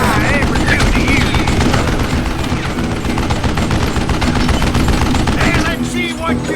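Dense, rapid gunfire from an Old West shooter, Call of Juarez: Gunslinger, with many overlapping shots forming a constant loud barrage, a few shouted game voices underneath, and the volume dipping slightly near the end.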